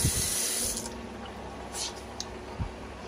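Tap water pours steadily into a sink to rinse out a canvas, a close, continuous hiss and splash that eases slightly partway through, with a couple of soft knocks.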